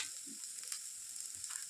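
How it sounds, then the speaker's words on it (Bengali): Lentils tipped into hot oil in a home kitchen sizzle and crackle softly for a moment, a brief, fairly quiet frying hiss with a couple of small clatters. "আমি ডালটা ছেড়ে দিই"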